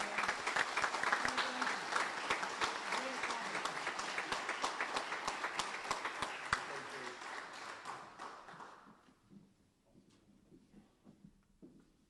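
Audience applause at a Camp Lejeune Marine Corps award dinner for an award recipient, a full round of clapping that holds steady for about eight seconds, then quickly dies away to scattered claps and quiet room noise.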